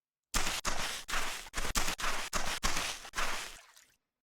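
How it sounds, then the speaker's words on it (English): Footsteps crunching and squelching over waterlogged sand in the Viking Village video game, about nine even steps in a steady walking rhythm, close and clear with nothing else behind them. "it will sound something like this when the player walks on the sand, because it's quite waterlogged in the game"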